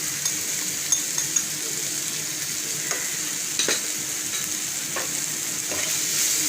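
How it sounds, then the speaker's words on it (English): Kashmiri red chili powder and coriander powder frying in a pan for achari methi baingan, a steady close hiss and sizzle with occasional light scrapes of a spoon against the pan. "while the spices try to fry, we add a few drops of water into this"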